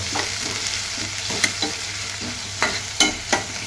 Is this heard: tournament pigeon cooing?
no